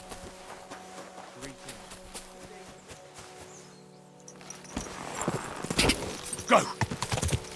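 Horse hooves clip-clop at a steady walking rhythm in the medieval video game Kingdom Come Deliverance II. The sound is moderately close, and louder movement and voices come in toward the end.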